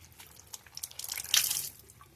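Water drips and trickles as a hot, wet rag is wrung out over a sink, a brief splashing burst that builds and then fades.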